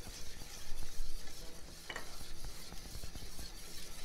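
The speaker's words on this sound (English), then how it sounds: "Just keep stirring." Spoon stirring caramel praline cake batter in a bowl, a soft, steady, close-up scraping and swishing that carries on without a break.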